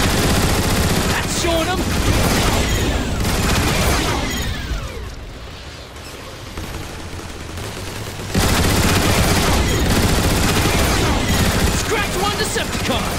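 Turret gun emplacements firing in the video game Transformers: War for Cybertron, a loud dense barrage of rapid gunfire and blasts that eases briefly before surging again, with voices speaking over it.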